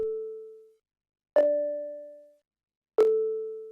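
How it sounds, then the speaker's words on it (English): Three soft, pure sine-tone notes ring out one at a time with sharp attacks and slow decays, spaced evenly like a simple counter melody. "Next to that we have this sine counter melody"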